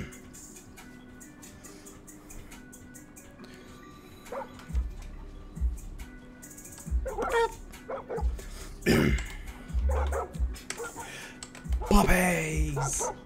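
Puppies in Far Cry New Dawn yip and bark in short scattered bursts, growing busier toward the end, mixed with game sounds and someone talking.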